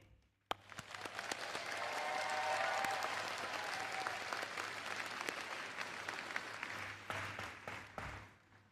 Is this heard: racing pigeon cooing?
no